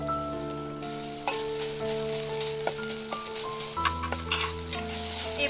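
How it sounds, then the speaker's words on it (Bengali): Garlic and ginger paste sizzling in hot oil with browned onions while being stirred, a steady close frying hiss with scraping and clinks of the spoon in the pan. "এবার এগুলোকে একটু কষিয়ে নেব।"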